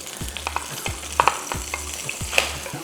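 Onions frying in a couple of tablespoons of oil in a pan, a steady sizzle punctuated by rhythmic scrapes and light clicks of a utensil being stirred through them, close and without talk.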